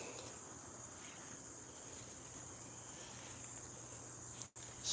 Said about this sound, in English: Y'all hear them crickets